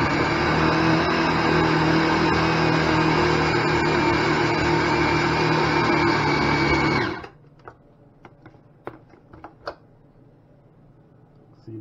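Food processor whirring loud and steady as it purees fish for burger patties, then stopping abruptly about two-thirds through, leaving faint clicks and handling noises.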